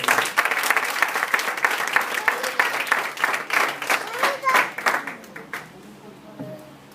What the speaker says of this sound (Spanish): Dáselo fuerte el aplauso.